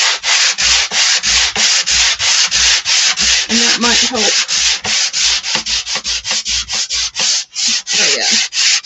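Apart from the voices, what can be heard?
sanding a wooden faux pallet sign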